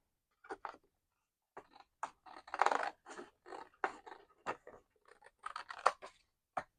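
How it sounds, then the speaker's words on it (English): Scissors trim paper for a junk journal in an altered composition notebook, giving repeated close, crisp snips in quick irregular bursts, quiet and alone. "So I'm just going to trim around it."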